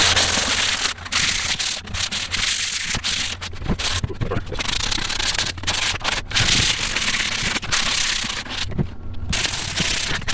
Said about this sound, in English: then I'll give it a quicksand with 600 grit sandpaper